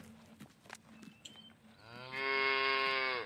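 Cattle in the Farming Simulator 19 game give a long, loud, harmonic moo in the second half, with quieter game ambience and soft clicks before it.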